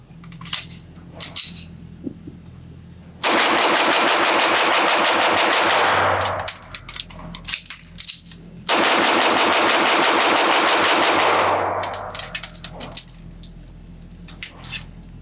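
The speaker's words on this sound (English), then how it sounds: "I want to shoot it fast. So let's go back to the range and see how it does." A Sig Sauer P226 Mk25 pistol is fired rapidly at a shooting range in two long, loud strings of fast shots, each string several seconds long. Brief pauses between them carry metallic clinks and faint clatter.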